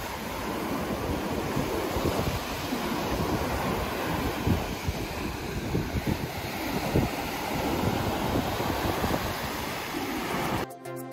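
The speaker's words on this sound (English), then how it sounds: "I love listening to the ocean at night" Ocean surf washes steadily onto the beach at night beside a hotel, a continuous broad roar of breaking waves with some wind buffeting the microphone, no voices.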